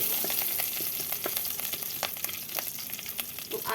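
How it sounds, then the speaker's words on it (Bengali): Fresh curry leaves fry in hot oil for jhal suji, giving a steady crackling sizzle with scattered sharp pops throughout, close and fairly loud, with no voices. "কারিয়া পাতাটা আমি নরম পাতা, তো একটু তেলে ভেজে নিলে হয়ে যাবে।"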